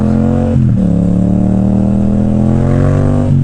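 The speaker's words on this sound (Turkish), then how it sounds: "Mercedes'li sıkıştırdı motorcuyu." Traffic noise on a road with a speed bump, heard from inside a car, with a loud steady engine drone and a motorcycle's rising rev beside a Mercedes car, close and continuous.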